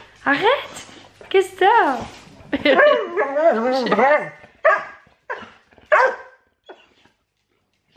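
A dog whines and yelps in short high-pitched bursts, wanting to go outside, mixed with a person's voice speaking to it in French nearby.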